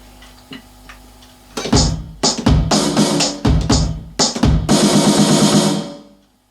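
A drum kit plays a short rock pattern up close, punchy kick and snare hits in steady rhythm with cymbal crashes ringing out at the end.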